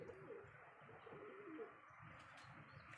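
Pigeons coo in soft, repeated rolling calls, resting in the sun near a walled enclosure and cages, with faint chirps from other birds and steady low background noise.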